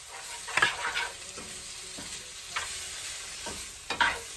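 Garlic and seasoning browning in a frying pan hiss softly while a utensil stirs them, with several distinct scraping strokes spaced across the moment, fairly quiet and close, without speech.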